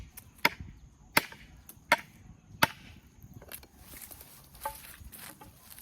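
A hand-forged, straight-backed knife made from plough steel, hot-forged, hardened and tempered twice, with a 7.5-inch blade, chops hard wood in four sharp, evenly spaced, close blows, followed by fainter rustling.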